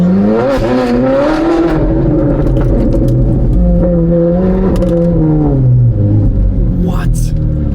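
A Ferrari 458 Spider fitted with F1 race exhaust headers, recorded from inside the car at low speed, gives a loud, continuous engine drone with rising and falling revs, while excited voices talk over it.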